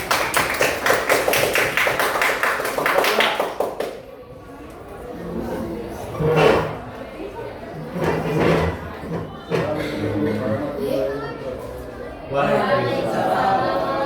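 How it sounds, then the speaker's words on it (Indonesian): Classroom applause for a student group: a crowd clapping loudly for several seconds, then scattered claps, chatter and voices talking, with another short burst of clapping near the end. "Tepuk tangan kelompok 1"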